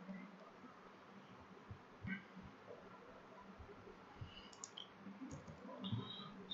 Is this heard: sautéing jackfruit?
no